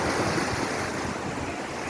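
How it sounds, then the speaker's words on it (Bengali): Waves surge and wash steadily onto Patenga beach on the Bay of Bengal under cloudy evening skies, a continuous roar of surf mixed with wind buffeting the microphone. "অসম্ভব ঢেউ, দারুণ মেঘলা আবহাওয়া।"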